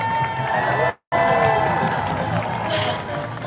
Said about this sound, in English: Another round of applause for all of the stars today!